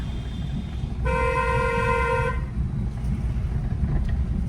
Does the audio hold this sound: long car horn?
yes